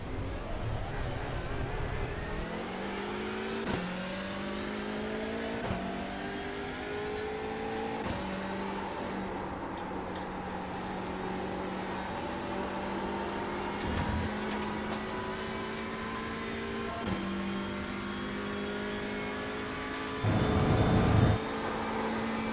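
Racing-game car engine revving and accelerating through rising gear pitches, with shifts every few seconds, held steady and fairly loud throughout, with a brief louder burst near the end.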